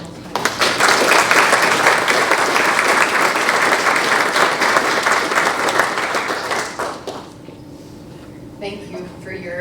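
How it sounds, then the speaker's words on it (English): Loud applause from an audience at a spring grant celebration for a county foundation, sustained dense clapping that fades out after about seven seconds into quiet room tone. "One more round of applause for our MC and final time."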